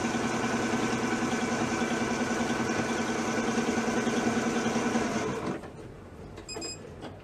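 Sewing machine stitching fabric squares for a baby rag quilt: a steady, fast mechanical whir with rhythmic needle clatter runs for about five seconds and then stops, leaving a faint quiet tail with a brief tone.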